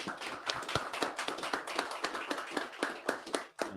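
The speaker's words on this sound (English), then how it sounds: "clap it up, clap it up" An audience claps at a trumpet-blowing memorial gathering on 125th Street in Harlem, New York, a steady run of close, crisp hand claps with a few louder accents and a brief dip near the end.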